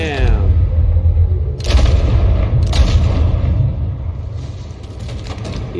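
Gunshots in the Batman Telltale Series, Children of Arkham episode, land as a couple of heavy booming reports over a low rumbling scene, with voices nearby.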